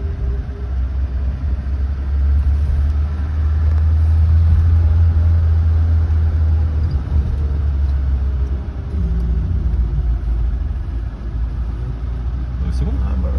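A classic BMW 1802 car on the move, its mid-pitched engine rumbling steadily from inside the cabin, swelling briefly as it pulls, with people talking in the car over the engine note.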